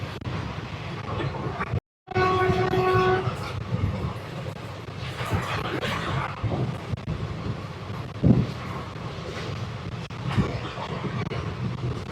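A train rumbles steadily at Kaikaluru railway station in India, with a brief horn-like tone early on and wind buffeting the microphone throughout.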